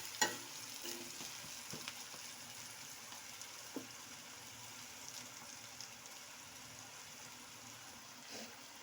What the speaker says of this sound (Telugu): చూడండి, ఇలా ఆనియన్ అంతా బాగా ఆయిల్లో బాగా మగ్గుతూ ఉన్నాయి.